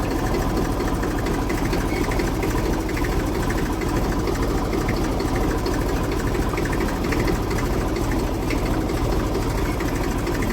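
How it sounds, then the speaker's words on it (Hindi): Tractor engine running steadily while backing up on a waterlogged field track, a continuous loud low chugging drone with a clattering mechanical rumble and no pauses throughout. "चक्रोड़ में बैक कर रहे हैं ट्रैक्टर को"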